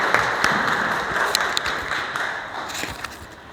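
Audience applause at a workplace safety day program as the mechanical head, Kiradu, is called up, a steady broadband patter of many hands at moderate volume with a few sharper claps standing out, tapering slightly toward the end.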